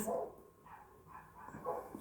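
Neighbors' dogs bark in the distance, a few faint, muffled yips and barks scattered over a low background hum.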